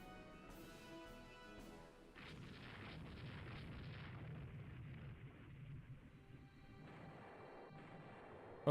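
Torpedoes strike a warship in the naval strategy game Rule the Waves 3, giving a low, rumbling string of muffled explosions that sustain as a dull roar, faint and somewhat distant throughout.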